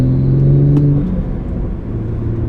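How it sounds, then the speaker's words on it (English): BMW 340i turbocharged engine with a six-speed manual accelerating from inside the car, a loud close rumble with rising engine tones that dip briefly around a gear change, then pull on steadily. "Let's see if we can get that turbo noise."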